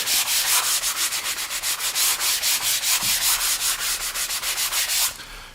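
Rapid rhythmic sanding strokes work across a panel profile, a steady back-and-forth rasp of about two strokes per second, close and loud, stopping abruptly near the end.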